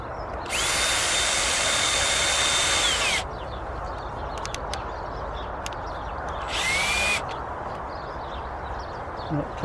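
A power drill drives screws into a wooden crop frame in a garden. There is one long whirring burst that winds up and then drops, a pause, and then a second short burst. Both are fairly close and heard without talk.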